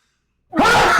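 A single sudden, loud sneeze bursts out after silence, sharp at onset and then trailing off briefly.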